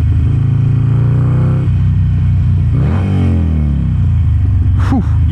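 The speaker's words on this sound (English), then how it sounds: "you can really hear it in the way this thing revs now" A dyno-tuned 1275cc Harley-Davidson Sportster engine revs hard up and down several times close by, a loud throaty roar rising and falling, ending with a sharp high rev.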